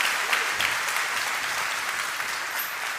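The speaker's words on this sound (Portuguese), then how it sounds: "Pode dar uma salva de palmas ao Senhor" A church congregation claps in a sustained, dense round of applause honoring the Lord during a worship service, steady and fairly loud throughout with no pauses.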